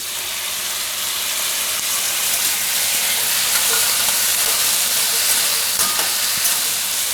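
Tomatoes hit hot oil in a pan of cauliflower and capsicum, giving a steady, close, even sizzle that holds without a break.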